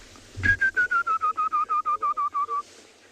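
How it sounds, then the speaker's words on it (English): A spectacled weaver repeats a clear, whistled note about a dozen times in a steady, even rhythm, loud and close, after a brief rustle at the start. "It's called a spectacled weaver."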